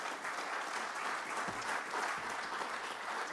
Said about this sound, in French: merci pour pouvoir vous applaudir.